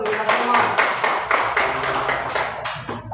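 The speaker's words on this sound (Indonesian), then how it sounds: "kasih tepuk tangan dulu untuk kita semua" Children in a second-grade classroom clap their hands together in a quick, loud burst of rhythmic claps that taper off toward the end.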